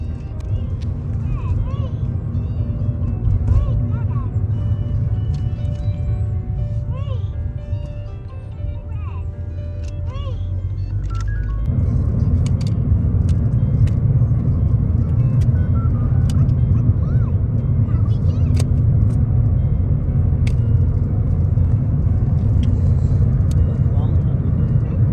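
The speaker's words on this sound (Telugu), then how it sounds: "here Venkat is driving" Steady interior road noise of a car being driven, a low continuous rumble that grows heavier partway through, with people talking over it.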